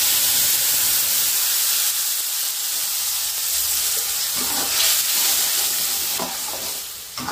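Spice paste sautéing in a hot pan for an Indonesian soup of glass noodles, potato and sponge gourd, a continuous loud sizzle and hiss with a few stirring scrapes toward the end.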